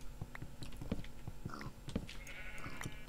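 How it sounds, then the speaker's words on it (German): A sheep bleats in the Minecraft video game, with short wavering cries amid repeated soft game sounds and footsteps in a forest at night. No one talks. "Und da ist ein Schaf."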